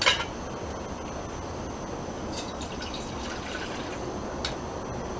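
Two cups of water pour steadily into a backpacking stove pot outdoors, a continuous close liquid trickle and splash for several seconds with a brief louder start and no talking.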